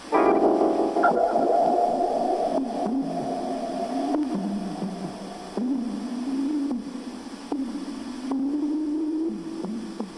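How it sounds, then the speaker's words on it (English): An eerie, echoey, creepy background effect from the 1974 film Jack and the Beanstalk. Warbling, whale-like tones slide and bend under a droning hum, with reverberant swells recurring over about ten seconds. "you just hear all this weird background, echoey, creepy kind of sound effect going on in the background"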